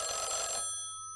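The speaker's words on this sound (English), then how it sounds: "She hears it ring, and she pauses for a moment." A telephone rings once with a bright electronic bell tone that sounds loud and close, then cuts off and leaves a short fading tail, with no one speaking.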